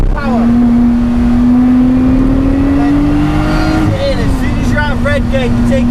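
Race car accelerating around Donington Park circuit, a loud steady engine drone climbing in pitch, dipping briefly for a gear change, then building again, with a voice talking over it throughout.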